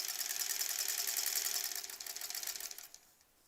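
A sewing machine stitches down open seams on a small quilt block. The motor runs in a fast, even whir, then slows into a stuttering rattle and stops near the end.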